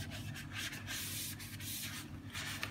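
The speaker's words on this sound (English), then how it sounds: "wetten the sponge with some nail polish remover. And we're gonna move first along the metal to show you." A sponge wet with nail polish remover rubs back and forth along the metal chassis of a Bugaboo Bee stroller, giving quiet, close scrubbing strokes in an uneven rhythm.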